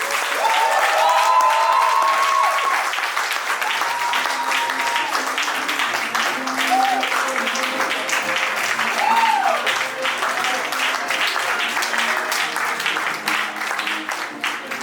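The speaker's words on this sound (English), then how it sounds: "please another round of applause for Dr." Long, sustained applause from a crowd at an anniversary celebration, dense clapping with faint voices and cheers mixed in, gradually thinning toward the end.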